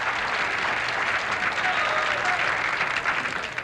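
Crowd at a 1985 professional bowling tournament applauding, a few seconds of steady clapping that fades slightly at the end, with a faint low hum beneath.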